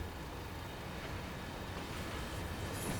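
A Class 31 diesel locomotive rolling along the track in Train Sim World 2 on the Tees Valley Line, a faint, steady low rumble of engine and wheels with no talk over it.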